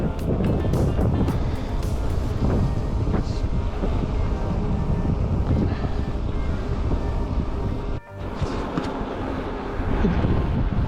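Strong wind roars steadily across the microphone, loud and buffeting throughout, with a brief dip near the end before it surges again.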